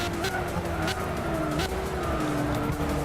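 High-powered turbocharged race car in Gran Turismo 6 roaring steadily with engine pitch slightly shifting, tires squealing and skidding in short bursts, loud and close with no voices.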